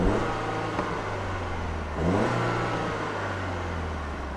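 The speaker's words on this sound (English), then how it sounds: "the revs will hold its place at around 3500 RPM" Engine of a 2014 BMW 220i Coupe M Sport, revs held steady by launch control with the clutch pressed, a sustained even hum with a brief swell in the middle, heard up close with no talk.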